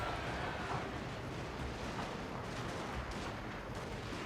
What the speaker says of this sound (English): And the bombardment is about to make that far, far worse.